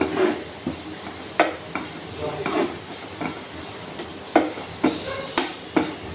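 Spice powders are stirred in a pan, making close, repeated scraping strokes and sharp knocks of a utensil against the metal in an uneven rhythm.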